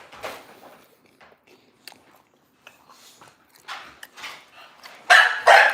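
Dogs, American Bullies begging for pizza crust at home, give short, scattered barks and yips, with a louder burst of barking near the end; the dogs sound close and there is no talk over them.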